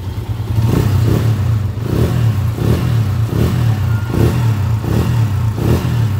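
A Honda TMX motorcycle engine idles nearby, a steady low rumble with a regular pulsing beat roughly every half second.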